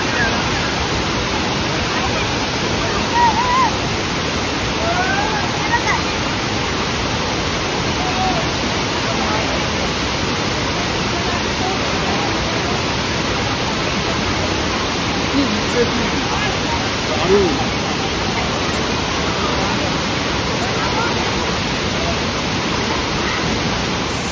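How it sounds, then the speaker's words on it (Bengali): Chitrakote or Tirathgarh falls in Bastar, a large waterfall giving a dense, continuous roar of falling water that stays steady and loud throughout, with faint voices barely audible beneath it. "বাপরে কি বিশাল ফলসটা।"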